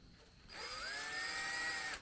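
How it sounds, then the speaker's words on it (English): A power drill fitted with a polishing attachment spins up from quiet into a steady high-pitched whine, rising slightly in pitch and holding for about a second and a half, close and alone. "I've got this on the drill"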